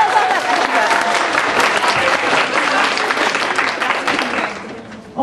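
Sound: audience clapping at a convention panel

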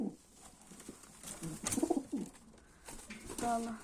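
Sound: pigeon cooing

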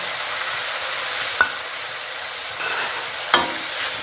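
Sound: stir-frying crispy dolly fish in a wok

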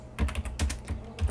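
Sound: typing on a computer keyboard to rename a Blender workspace

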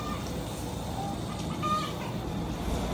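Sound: chickens clucking

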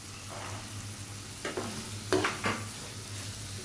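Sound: green peas being stirred and fried in a pan

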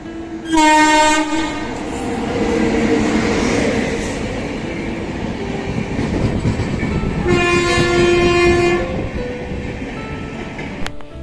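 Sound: train arriving at a platform

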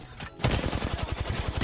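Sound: gunfire in Apex Legends video game

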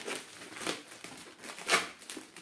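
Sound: packaging crinkling while unboxing a gaming keyboard

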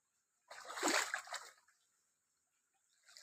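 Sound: water running to irrigate chikoo trees

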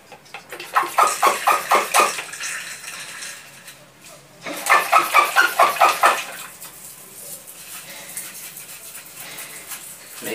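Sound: watering tomato seedlings in plastic containers

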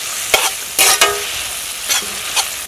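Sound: sautéing tomato and mint leaves in a pan

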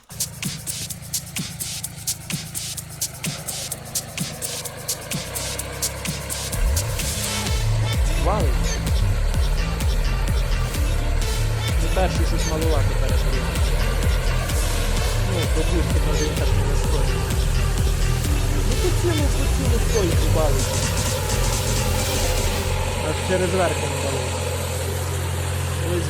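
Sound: four-wheel-drive mini tractor engine running

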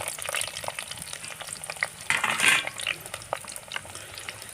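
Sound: onions frying in a pan for eggplant curry

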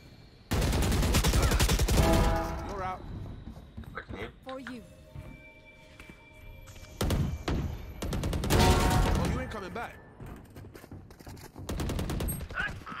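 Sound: gunfire from the video game Valorant

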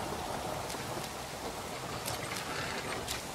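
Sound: rain in No One Survived video game

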